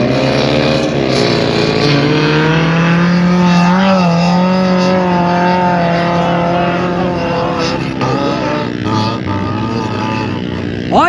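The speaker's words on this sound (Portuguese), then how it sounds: "Olha, Fiat Toro nas dunas aí, galera." A brand-new Fiat Toro pickup driving on sand dunes at the Duna do Troll, its engine giving a loud, steady drone that swells and wavers in pitch as it works through the sand.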